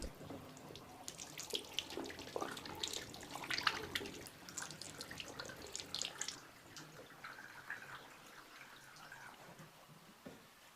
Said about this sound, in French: Les premières 15 minutes sont passées, on peut vider l'eau savonneuse.